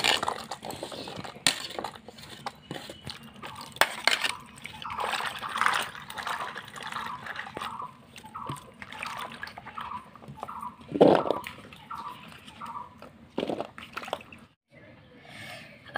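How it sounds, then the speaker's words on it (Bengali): Cut taro stolons being washed by hand in a bowl of water, with repeated light sloshing, squishing and occasional clinks of a container, close and fairly quiet with no talk. "লতিটা আমি কেটে নিয়েছি, এবার ধুয়ে নিচ্ছি।"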